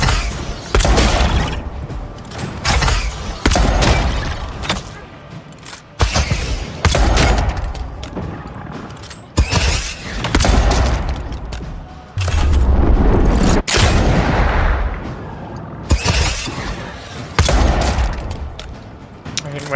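Pistol shots and magic missile blasts in the fantasy game Avowed, loud and close, arriving in repeated heavy bursts of booming fire with brief lulls between volleys.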